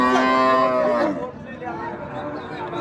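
A large cow at a cattle market gives one long, loud, close moo lasting about a second, then it fades into a quieter background of market noise.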